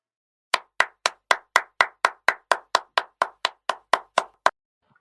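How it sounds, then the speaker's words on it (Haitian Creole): Sixteen crisp, evenly spaced hand claps ring out one after another in a steady beat. It sounds like a single pair of hands rather than a full crowd, close and clean against silence, for a manager at a neighbourhood party. "Mesdames et messieurs, veuillez applaudir à nouveau notre manager."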